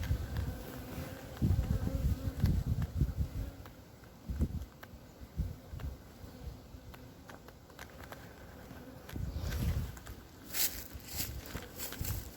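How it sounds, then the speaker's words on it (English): Honeybees buzz around their hive on a cool November day as bees land on the recorder. The insect hum rises and falls in uneven bursts close by, with soft knocks and rustles between them and no talking. "Whoops, I got bees landing on me now."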